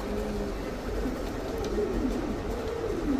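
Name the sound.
beauty pigeon cooing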